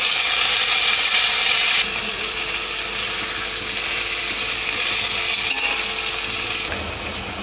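Tomato pieces sizzling and softening in a hot pan for a Telugu-style tomato meal maker curry, a steady loud hiss and crackle of frying that eases slightly partway through, with no voices.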